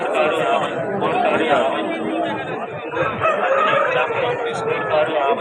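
A rooster crows amid a noisy cluster of chickens at a fighting-rooster market in Vijayawada, while people chatter loudly nearby.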